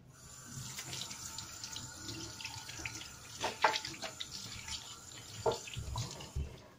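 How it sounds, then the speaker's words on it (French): Tap water runs steadily into a sink while hands are washed, with splashes and small clatters over the continuous flow, close and moderately loud. "là je vais aller me laver les mains parce qu'il faut bien se laver les mains"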